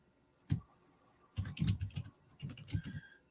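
Quiet typing on a computer keyboard, one isolated keystroke followed by two bursts of rapid clicking separated by a short pause, close to the microphone.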